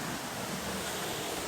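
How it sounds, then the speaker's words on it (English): Waterfall on a bushwalk track near Hanmer, a constant loud broadband rush of falling water filling the whole clip, with no talking. "So, here's the waterfall that we came to look at, obviously."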